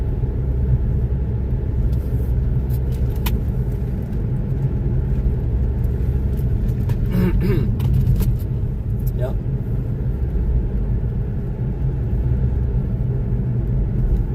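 A truck rumbles along the road in a steady, continuous low drone from inside a moving vehicle, with someone speaking briefly over it.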